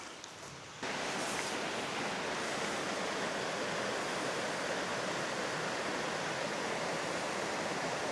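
Rushing river water flowing beside a campsite, a dense, steady wash of noise that jumps louder within the first second and then holds constant and close, with no voices.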